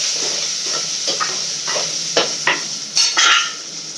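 Onion and tomato sautéing with a little salt for fish curry: a soft background sizzle broken by several sharp spatula scrapes and stirring strokes that grow louder toward the end, close by and without talk.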